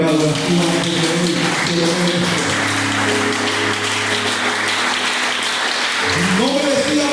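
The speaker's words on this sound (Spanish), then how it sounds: "hay alguien que le dé un aplauso a Él en adoración" Church congregation applauding during worship, steady clapping spread across the room over a sustained organ or keyboard chord that shifts pitch midway.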